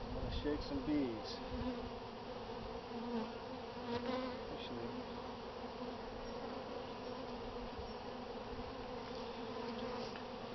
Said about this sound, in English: Shake some bees.